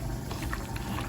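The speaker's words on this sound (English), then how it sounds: "take a little water on my hand and just kind of sprinkle it around" Water sprinkled by hand over raw chicken breasts while preparing a chicken and zucchini stir fry, heard as a brief, continuous close splashing and pattering of liquid over a loud, noisy background.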